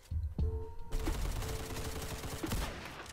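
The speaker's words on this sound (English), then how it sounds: "They're shooting at something." Rapid bursts of gunfire ring out in the Roblox game Criminality: a few sharp shots, then a dense, sustained fusillade of overlapping rounds that stays loud through the rest of the clip.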